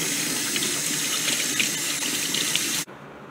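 Tap water runs steadily into a sink while a tarantula's water dish is cleaned and filled, a continuous close hiss and splash that cuts off abruptly near the end.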